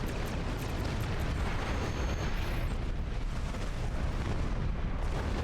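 Continuous heavy rumbling blasts and booming explosions in the game Star Trek Online, dense and loud throughout, with a steady roar and no talking.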